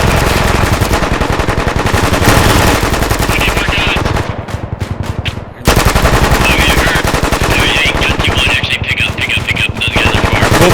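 Gunfire in a military simulator video game, dense rapid machine-gun bursts that are loud and nearly continuous, with a short lull midway, while voices talk under the shooting.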